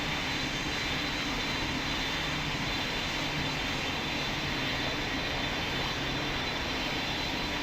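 An airliner comes in to land in the Pilot Training Flight Simulator game, its jet engines giving a loud, steady roar that runs through the whole stretch without a break.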